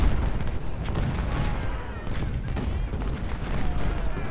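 Cannon fire from Civil War artillery batteries in Ultimate General: Civil War, a dense, continuous roll of booms and crackling gunfire at steady loudness, with faint voices underneath.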